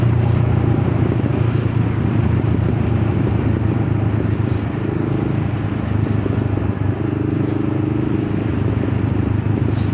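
A motorcycle rides through the Forest of Bowland, its engine a loud, steady low drone blended with wind rush, the pitch shifting slightly midway as the ride continues.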